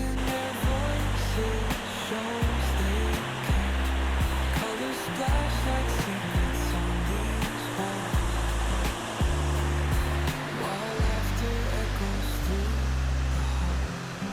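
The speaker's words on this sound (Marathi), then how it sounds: "Arvelem waterfall in Goa, so beautiful." Harvalem waterfall in Goa roars as a steady, broad rush of falling water, partly covered by loud music playing over it throughout.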